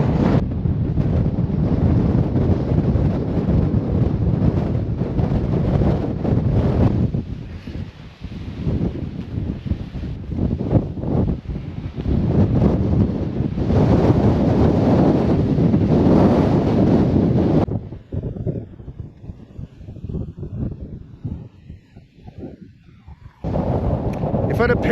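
Strong wind from the tail end of Storm Darragh buffets the microphone in loud, roaring gusts while wild camping, with tent doors flapping and rattling throughout before easing briefly near the end.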